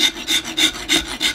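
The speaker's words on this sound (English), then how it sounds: "I'm going to get a file out and just clean them up, make them nice and smooth. I'm going to try this rasp." A hand rasp scrapes at drilled holes in a marble bonsai pot, five rhythmic rasping strokes in quick succession, close and steady, with no talk.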